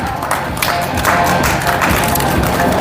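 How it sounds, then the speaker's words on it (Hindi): Steady crowd applause fills a budgie show hall as an audience claps for a trophy winner, dense and continuous with faint voices mixed in. "तो इनके लिए आकिब भाई के लिए भी जोरदार ताली हो जाए।"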